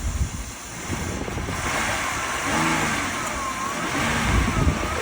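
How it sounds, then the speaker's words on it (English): A car at a police and towing auction runs at a steady mid-pitched idle with rumbling revs that rise and fall slightly, close and fairly loud, with no talking. "Engine sounds really good on it."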